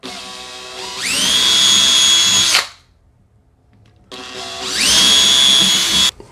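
A power drill whirs up to a loud, steady whine twice while drilling into a wall through tape for a towel bar, each burst about a second and a half, separated by a short silence.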